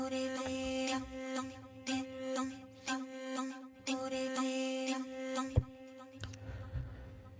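Three vocal pad layers from the Zero G Kepler sample library blend into one sustained, droning choir-like chord, swelling and shifting in several waves with no talking over it.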